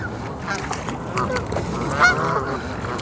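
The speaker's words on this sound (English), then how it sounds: "I still can't believe how many Canada geese there is." Canada geese honking by a lake, several nasal calls against a steady outdoor rumble, one louder honk standing out near the middle.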